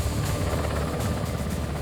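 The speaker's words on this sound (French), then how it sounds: "Les Tigres, hélicoptères d'attaque, et les Caïmans sont des vaisseaux exceptionnels" A Tigre attack helicopter in flight, a dense, steady rotor and engine roar with faint rhythmic pulsing, loud and continuous with no voices.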